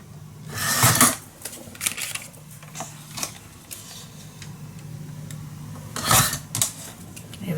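Scissors cut paper for a scrapbook mini album, a few crisp snipping strokes spaced irregularly, close and moderately loud over a quiet background hum.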